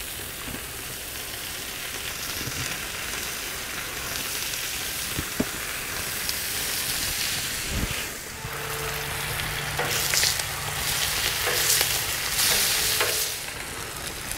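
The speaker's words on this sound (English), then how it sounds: "so I'm just going to throw these over on the warm side over here. Get the bacon going right away." Bacon fries on a Blackstone griddle with a steady, close sizzle and crackle throughout, joined midway by scraping and shifting sounds as it is moved around.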